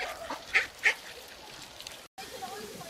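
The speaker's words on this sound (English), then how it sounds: "Right next to the ducks." Two short honking quacks from a duck stand out over a quiet outdoor background, followed by faint ambient noise.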